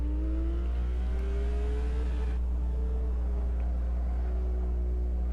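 A street car's engine in the racing sim Assetto Corsa, a steady mid-pitched drone with a rising rev tone that drops sharply as at an upshift, then climbs again, playing alone at moderate volume.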